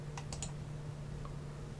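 A few quick computer keyboard key presses, faint and close, in a short cluster over a low steady hum, with no voices.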